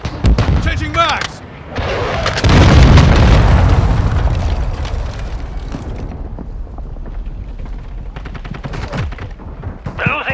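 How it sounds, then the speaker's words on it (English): A stun grenade goes off in a military shooter game, a loud booming blast with a long roaring decay, amid surrounding gunfire and explosions, with voices calling out in between. "Stun grenade out!"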